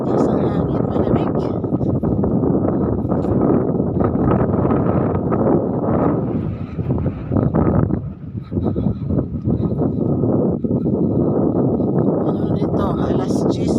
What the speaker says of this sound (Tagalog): mas lakas ang hangin